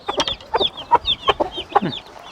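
Gurk hens clucking in a yard, a run of short, sharp, close calls repeated in quick bursts without pause.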